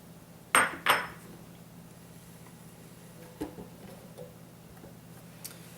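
Mixed black, white and red peppercorns pour into a Hercules Elite blender jar in two quick rattling bursts, then a few faint scattered ticks as they settle in a quiet room.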